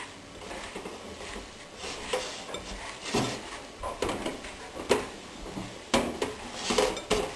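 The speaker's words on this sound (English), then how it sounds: "what we do now is we just mix it with hands" Gluten-free raw muesli is mixed with coconut oil by hand in a bowl, making soft crunchy rustles and scattered louder clattering bursts, close up and without speech.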